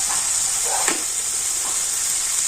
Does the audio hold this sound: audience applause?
no